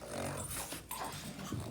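Dogs growling and whimpering indoors at fairly close range, with steady low rumbling and brief higher whines over a busy domestic background.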